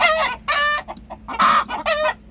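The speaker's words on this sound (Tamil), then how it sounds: "இது கோழி" Chicken clucking in close, repeated bursts of several calls with short gaps between, loud and clear with no talking.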